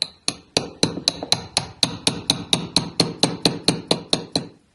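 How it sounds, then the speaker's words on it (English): A mallet taps a wooden dowel down into a ring, around eighteen sharp, evenly spaced knocks in a steady rhythm, close and clear with no talking. "Just grab your mallet, with the dowel in place,"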